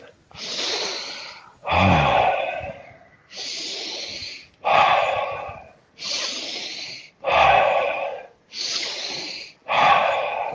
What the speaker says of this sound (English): Just keep breathing now.